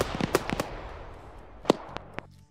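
A vehicle's ammunition cooks off in a video game, giving a rapid cluster of sharp pops and cracks, then a louder isolated blast and a few scattered bangs over a low rumble.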